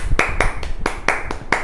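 Hand clapping, five sharp claps in a slightly uneven rhythm, close and loud with no other sound.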